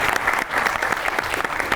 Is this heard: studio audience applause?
yes